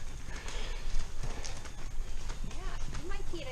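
Horse hooves clip-clop at a horse show, with a horse neighing now and then, mixed into a busy background of people talking nearby.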